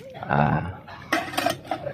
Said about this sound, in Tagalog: yung ating mga tropa dito, sila nagugas ng pinggan